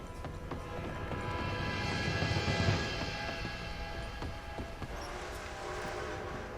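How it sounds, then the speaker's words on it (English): An approaching train in Red Dead Redemption 2: a continuous rolling rumble with metallic rail clatter and faint ringing tones, holding steady and swelling slightly as it draws near, with no talk over it. "Train!"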